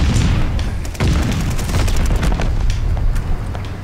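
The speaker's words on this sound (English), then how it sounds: "Friendly bombing run on the way." Bombing run in Call of Duty Vanguard: a dense, loud stretch of deep booming explosions rolling one into another with scattered crackling gunfire, continuous with no talking.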